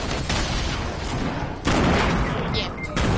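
Burst of video game gunfire, loud rapid shots and booming impacts in a multiplayer shooter, dense and continuous with a brief lull before another volley.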